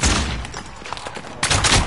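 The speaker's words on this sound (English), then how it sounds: "Oh, it's a sniper!" Sniper rifle fire in an online shooter video game: loud sharp gunshot bursts at the start and again near the end, with a busy battle din between.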